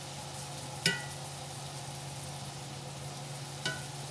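Food fries in a pan with a steady low sizzle, broken by two sharp metallic clinks, and no one talks over it.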